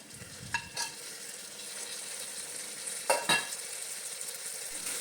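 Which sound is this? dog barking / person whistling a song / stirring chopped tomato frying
stirring chopped tomato frying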